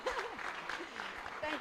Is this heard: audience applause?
yes